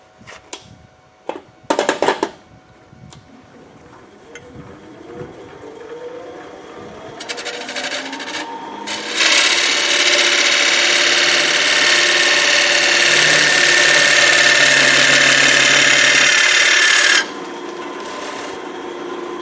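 A wooden bowl spinning on a lathe while a tool undercuts the rim, a few knocks and scrapes first, then a long, loud, steady rasping cut that stops abruptly, leaving the lathe's hum.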